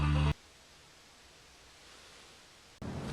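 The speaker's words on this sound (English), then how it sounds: "I found a channel that doesn't come in very well. I hear static." Steady hiss of car radio static from a poorly received channel in a Scion FR-S, a flat even noise running for a few seconds between short bursts of louder sound.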